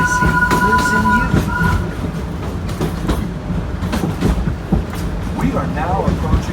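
The Wildlife Express theme park train at Disney's Animal Kingdom rolls along with rumbling wheels and clattering rail noise, a brief high tone early on, and a voice announcing the approach to Harambe station over the steady ride.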